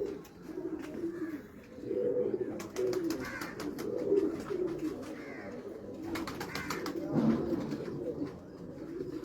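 Rare pigeons coo in a steady series of low, throaty calls, close and moderately loud, with faint chirps and light rustling behind them.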